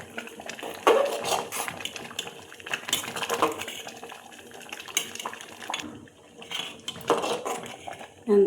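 A metal spoon scrapes and clanks against a pot while desi kheer is stirred, giving irregular clattering knocks and scrapes at close range with brief pauses between strokes.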